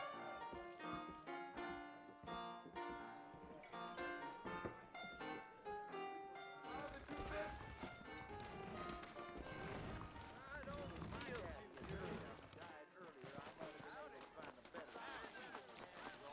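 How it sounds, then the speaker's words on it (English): Horses' hooves clip-clop steadily in the Western video game Red Dead Redemption, the rhythmic beats running beneath a game score with spoken dialogue in places. "I got the horses saddled up and ready out front."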